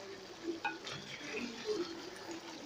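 Meat and onions for Egyptian pot kebab being turned over in a pot, with soft scraping strokes and a low, steady sizzle from the meat browning in onion juices; quiet and fairly close, no talking.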